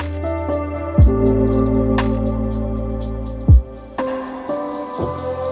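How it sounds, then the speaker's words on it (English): Within a lo-fi beat mix over a hi-hat pulse, a few loud snare hits sent through reverb bloom into a long reverberant wash that trails off behind sustained low chords. "I take my snare and I send it through some reverb"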